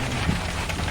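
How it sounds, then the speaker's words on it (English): Big hailstones pelt down during a tornado storm, a dense, steady roar of hard impacts close by with no voices over it. "Big hail, big hail, big hail."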